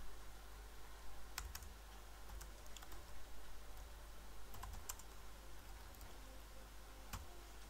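Keys on a computer keyboard in Microsoft Word tap out a name in faint, sparse clicks, a few isolated keystrokes and short clusters spread over several seconds against a quiet background hum.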